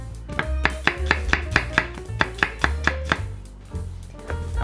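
Half an onion is chopped with a knife on a cutting board for bacon stir-fried udon, a quick run of about a dozen sharp, evenly spaced thuds followed by a brief pause and a few softer cuts.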